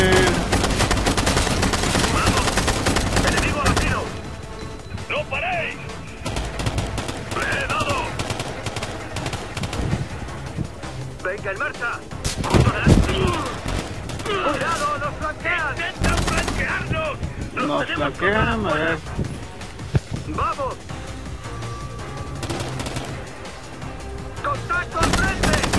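Rapid automatic gunfire rattles in Ghost Recon Future Soldier co-op combat, with dense bursts and single cracks repeating throughout as excited voices shout over the shooting.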